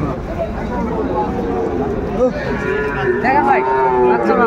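A Sahiwal bull calf moos loudly at a busy cattle market, a long drawn-out bellow rising toward the end, amid steady crowd chatter.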